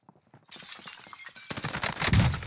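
Gunfire in Call of Duty Warzone Pacific, with faint distant shots first and then a loud, dense burst of close firing and impacts.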